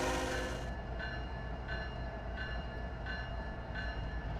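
A train in the Trainz video game rumbles steadily with a low, continuous rolling drone, and faint regular clicks recur about every 0.7 seconds, with no talking.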